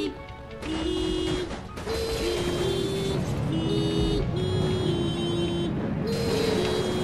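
Klaxon horn blasts from a small craft in the game Naut, sounding as a run of sustained honking tones with short gaps, loud and close over steady engine-like noise.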